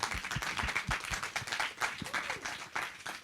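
An audience at a climate session in Davos applauds, giving steady, moderately distant clapping that fills the whole stretch with dense, even claps.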